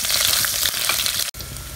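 Whole spices, garlic cloves and fresh ginger frying in a pan of hot oil, a steady close sizzle that holds throughout with a brief dropout near the end.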